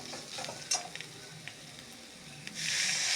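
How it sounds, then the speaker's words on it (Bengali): Onion and tomato sautéing with spices in a pan for egg soyabean curry, a quiet sizzle with scraping stirs and small clicks, swelling into a louder hiss at the end, no voices. "এভাবেই নেড়ে চেড়ে কিছুক্ষণ ধরে পেঁয়াজ টমেটোটাকে মশলার সাথে ভালো মতো করে"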